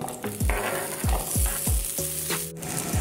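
Onions dropped into a hot pan sizzle loudly and close, a dense continuous hiss with a quick series of low rhythmic thumps and clatters as they go in.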